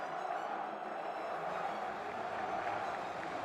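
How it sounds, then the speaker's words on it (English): Crowd applauding the Granblue Fantasy Versus: Rising champion at the EVO 2024 fighting game tournament, a steady, dense wash of clapping and cheering that holds at an even level throughout. "And now the crowd giving Tororo their dues"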